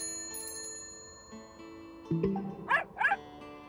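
A dog barks twice in quick, sharp yips near the end, over soft background music in a children's alphabet lesson.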